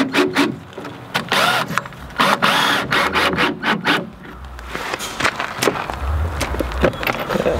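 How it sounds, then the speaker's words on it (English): A drill drives screws into the wooden floor of a mobile chicken coop, with short bursts of whirring, sharp knocks and clatter spread irregularly across the clip, close and fairly loud, and no voices. "we're just screwing into the floor for now"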